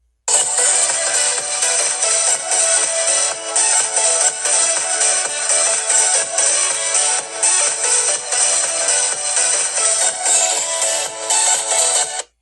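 An iPhone 8 Plus plays a ringtone through its bottom speaker, a loud, bright, continuous melodic tone that runs steadily for about twelve seconds before cutting off.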